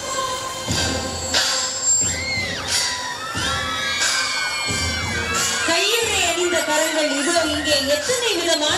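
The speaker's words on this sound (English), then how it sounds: "Let us all give a big applause." Crowd at a school's 67th annual sports day cheering and shouting, with children's whoops and voices dominating over a steady roar; loud and continuous throughout, with occasional thumps.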